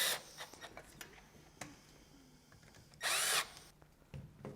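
A power drill drives a screw to fasten the bottom corner of a motorised Perfect Fit roller blind during assembly, one loud sustained whir of about half a second amid quieter handling clicks and taps.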